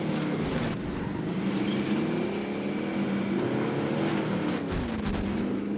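Loud, steady engine roar of a vehicle being ridden in the video game Apex Legends, a close, continuous droning hum with slight rises and dips in pitch and no pauses.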